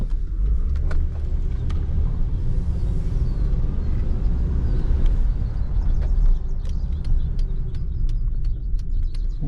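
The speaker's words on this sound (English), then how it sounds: "Shifting pretty good. I hit third gear there." A car driving along with steady low road rumble and engine drone, working up through the gears from second into third; faint bird chirps sit high in the background and no one talks.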